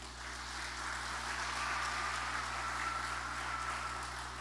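A church congregation applauds together, a faint, even wash of clapping that holds steady over a low hum, with no voices above it.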